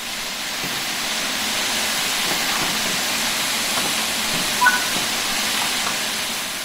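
Cylinder cocks on a steam locomotive in Train Sim World 4 vent a continuous broad hiss of steam, steady and fairly loud throughout with no talk.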